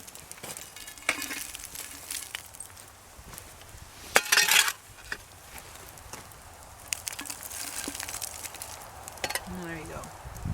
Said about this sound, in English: you probably want to shovel twice as many coals on the top of the Dutch oven